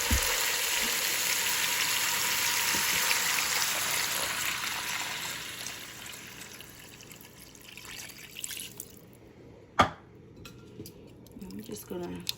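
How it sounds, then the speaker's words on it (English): Water poured from a tap into a pot of goat meat for Jamaican curry goat, a steady rushing trickle over a faint sizzle that fades out, then a single sharp knock near the end. "And I'm going to put enough water in here"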